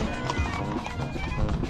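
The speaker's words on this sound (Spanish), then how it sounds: "Ya vienen más y más, más amigos de a caballo" Horses' hooves clip-clopping as riders arrive on horseback during a cavalcade procession honoring the Medalla Milagrosa, irregular hoof beats under crowd murmur and voices nearby.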